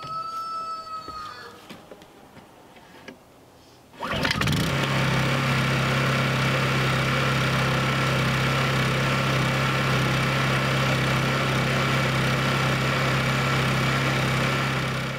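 Generator engine at an Alaska cabin starting up after a quiet stretch, then settling into a loud, steady low idle drone that continues to the end, with no talk over it.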